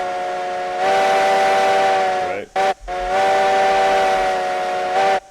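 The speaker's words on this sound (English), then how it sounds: "It's always had one of the best whistles in the game." A Heisler steam locomotive whistle in the RailRoads Online video game sounds loud and steady, with one long blast, a brief break with a short toot, then a second long blast that ends in a quick chirp.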